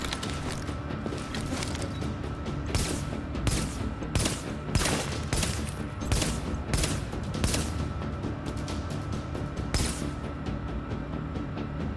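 Sniper and other gunfire from the video game The Division, with repeated sharp cracks scattered over a dense, steady wash of combat noise, several shots standing out loud and near through the twelve seconds.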